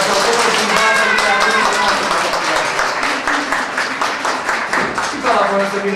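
Audience applause at a children's Christmas party, dense clapping spread across the room, steady and fairly loud throughout with voices audible underneath.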